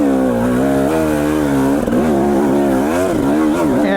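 A dirt bike on a single-track trail along the Boise River in Idaho, its engine droning loud and close the whole time with rising and falling revs as the rider putts along at an easy pace.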